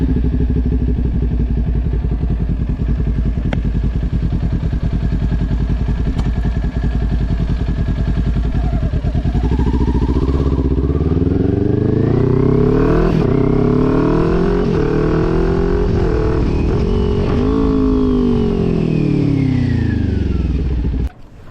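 Kawasaki Ninja 400 motorcycle engine droning steadily at first, then rising and falling through a series of sharp rev blips as it downshifts from fourth to third to second gear, loud and close with wind rush throughout.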